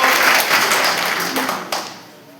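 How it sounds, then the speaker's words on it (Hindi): An audience claps loudly in honour of the MD at a company moral training event in India, thick applause that thins and fades toward the end. "एमडी साहब के नाम पर जोरदार तालियां।"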